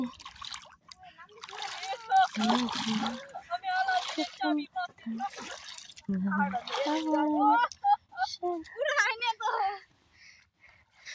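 Water splashes and sloshes repeatedly as people rinse their feet after a trip to a beach-like spot, with children and adults talking over the intermittent splashing.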